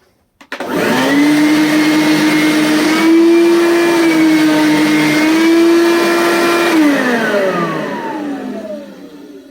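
A vacuum cleaner runs on a low pile area rug, starting with a click and spinning up to a loud, steady motor whine, shifting slightly in pitch as it is pushed, then winding down as it switches off.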